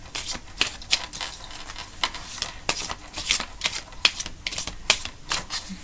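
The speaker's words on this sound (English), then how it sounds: "Let me shuffle like this." Playing cards shuffled by hand, a quick run of crisp riffling flutters and soft slaps repeating throughout, close up and fairly quiet with no talk.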